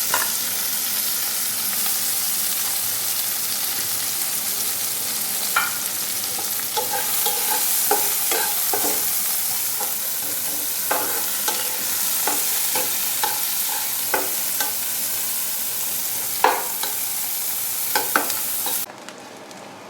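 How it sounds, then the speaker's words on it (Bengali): Onions sizzle steadily in hot oil in a pan alongside a dried chili, a constant close hiss broken by repeated scraping taps of a spatula stirring, with no talking. "তারপরে পেঁয়াজ দিচ্ছি"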